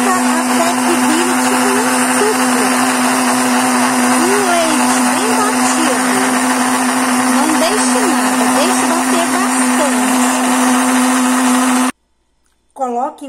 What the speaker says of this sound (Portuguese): Nós vamos bater polpa de coco no liquidificador.